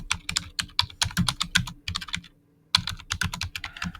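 Rapid keystrokes on a computer keyboard as a sentence is typed, a close, steady patter of clicks in two bursts separated by a brief pause, with no talking.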